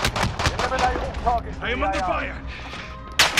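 Gunfire in a military shooter video game, bursts of shots crackling under radio chatter and a voice announcing enemies, with a sharp loud blast near the end.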